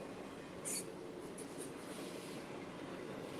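An intermodal freight train passes trackside in Ohio, giving a steady, faint, continuous rumble and rolling wheel noise with no talk over it.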